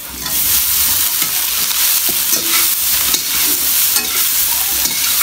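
Rice dry-roasts in a pan with a dense, continuous close hiss and gritty scraping as it is stirred, steady and loud throughout.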